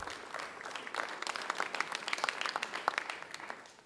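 Applause from the audience at a small-town informational meeting in St. Johnsbury, Vermont: a dense patter of many hands clapping, somewhat distant and moderately quiet, building slightly and then holding steady.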